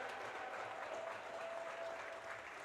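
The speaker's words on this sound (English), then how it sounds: "One more big round of applause for our seniors tonight." Hockey crowd at a girls' game clapping for the seniors, a steady, moderately close wash of applause in a rink, quiet overall with a faint tone running through.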